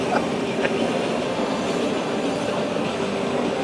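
A train rushing past in a Nintendo Switch 2 game, a dense, steady rumble with faint clattering that stays loud and close for the whole stretch.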